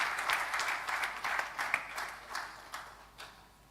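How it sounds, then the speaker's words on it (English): An audience at a corporate company secretaries' national conference valedictory session applauds the chief guest, a fairly faint, distant wash of clapping with occasional louder claps that slowly tapers off. "a big round of applause to our chief guest"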